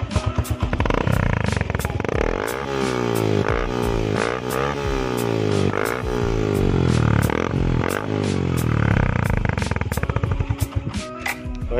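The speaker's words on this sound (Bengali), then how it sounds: "এই হচ্ছে আমার বাইকের সাউন্ড।" Suzuki Gixxer motorcycle fitted with a copy aftermarket exhaust, its engine revving repeatedly in rising and falling sweeps with a rough, popping idle between, close and loud with no talk.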